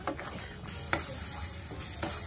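A spoon scrapes through thick ripe mango bar mixture in a hot pan, soft repeated stirring strokes over a low sizzle, heard close up.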